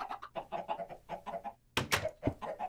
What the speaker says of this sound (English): There are chicken in there.